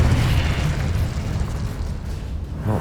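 A Confringo spell in the wizarding game Hogwarts Legacy bursts into a loud, close explosion, a deep rumbling boom that stays dense and heavy and then rolls on for a few seconds.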